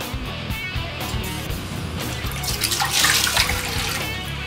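A measured liter of water for Neapolitan pizza dough is poured steadily into a container, a continuous splashing and gurgling rush that swells slightly toward the end.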